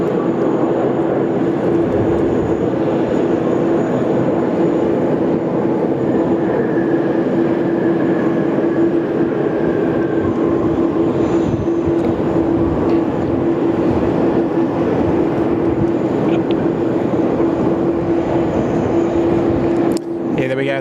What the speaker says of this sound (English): That is Qantas 34 landing 16 right.